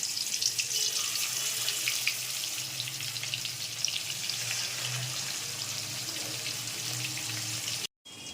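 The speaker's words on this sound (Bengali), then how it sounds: "এপাশে ভালোভাবে তেল গরম হয়ে গেছে এর মধ্যে আমি মাছগুলো দিয়ে দিলাম ভালো করে ভেজে নেব" Fish frying in hot oil, a continuous bright crackling sizzle that stays fairly even and moderately loud before cutting out abruptly near the end.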